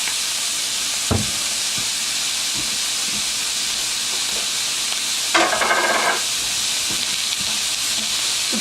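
Tortillas fry crisp in a pan with a steady hiss and sizzle, punctuated by a couple of sharp clinks and a brief louder burst of spattering.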